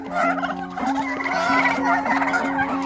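Farm turkeys in the Karaganda region gobble loudly and close, with rapid repeated warbling calls from several birds overlapping continuously.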